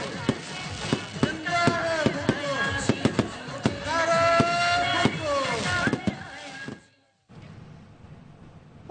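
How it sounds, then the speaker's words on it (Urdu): A fireworks display at Bagh-e-Jinnah in Karachi during a victory celebration: rapid, irregular cracks and bangs crowd together with crackling bursts and whistles, then cut briefly to near silence before a final pop. "شاندار آتش بازی کا مظاہرہ"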